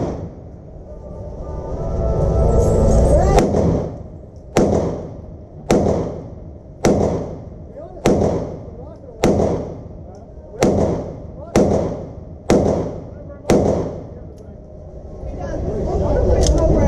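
Ten sharp gunshots from a SIG Sauer P365 pistol fire at a steady, slightly uneven pace, each loud close crack followed by a short decay, with quieter background noise before and after the string.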